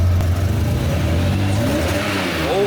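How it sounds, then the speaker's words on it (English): Dodge Viper engine revving loudly and close, a deep throaty growl with rising pitch sweeps toward the end, no talking. "This car screams when you drive it."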